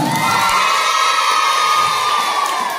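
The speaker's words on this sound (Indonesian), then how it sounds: "Kita semua tepuk tangan." Children at an Indonesian primary school closing ceremony, gathered for a poetry-reading prize presentation, cheer and shout in a loud, steady crowd roar lasting the whole stretch, with clapping buried in the din.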